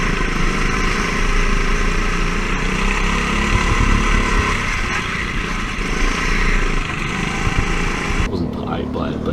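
Several racing go-karts run in close proximity during a kart race, their engines droning and buzzing continuously with a rising and falling whine, while a voice talks over the engine noise.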